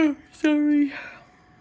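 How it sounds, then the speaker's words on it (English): A person gives a single drawn-out yawn, voiced and close, rising then sliding down into a breathy exhale, heard alone without other talk. "That was a yawn."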